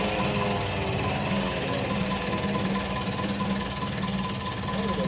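A 50-year-old sailing boat engine runs with a loud, rough, rapid knocking chug, steady and close throughout, with no voices over it.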